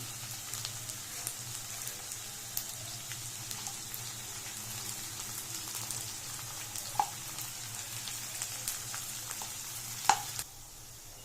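Chopped onion, green chilli and garlic frying gently over a low flame, giving a soft continuous sizzle with occasional faint ticks and pops and no talking, until the sound drops away at the very end.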